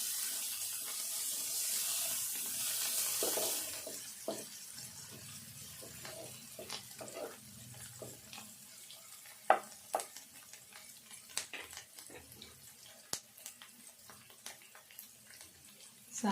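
Curry leaves and fresh coriander sizzle in a hot pan while being stirred, with a loud burst of frying at the start easing into steady crackle and scattered scraping clicks from the spatula.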